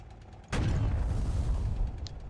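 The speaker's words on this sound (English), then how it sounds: "The gun sounds so fucking cool." Tank gun firing in the Sprocket tank design game, one sharp, loud blast followed by a heavy rumbling boom that lingers, alone without talking.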